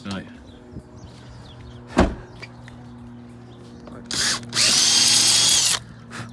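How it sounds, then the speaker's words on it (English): A power drill whines in two bursts, a short one then a longer sustained run, widening holes with a bigger bit, after a sharp knock and some quiet background noise on a windy day. "So we're just opening the holes out of the bigger drill bit."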